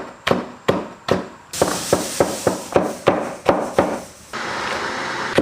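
A knife chops a fresh celtuce stem into shreds with about ten sharp, close chops in a fairly steady rhythm, followed by a softer noisy rush at the end.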